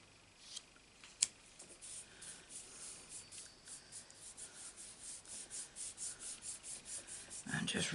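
A hand rubs paper onto an inked stamp in rapid repeated strokes, a soft papery scratching that builds steadily, with a couple of sharp taps early on.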